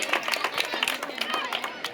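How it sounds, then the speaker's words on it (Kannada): An audience at a temple fair quiz event claps in a quick, dense burst of applause heard from a moderate distance with a murmur of voices. "ಆಡಿಯನ್ಸ್ ಜೋರ ಚಪ್ಪಾಳೆ."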